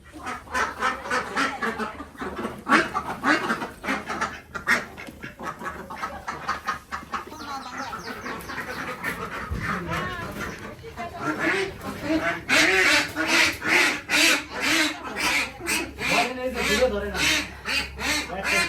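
Ducks quack in loud, rapid repeated bursts, many birds calling close by, with some background noise and possible voices mixed in.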